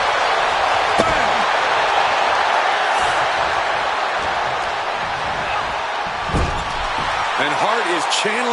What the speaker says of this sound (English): And Hart is channeling the energy of this crowd.